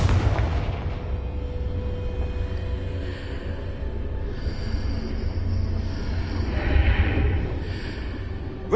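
Confringo blasting spell explosions in the video game Hogwarts Legacy, a dense run of loud booming blasts with low rumble that keeps up steadily throughout, with no talking.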